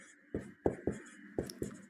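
Five distinct taps and scrapes of a marker or chalk on a board during a maths lesson, spaced unevenly and heard close and clear without speech.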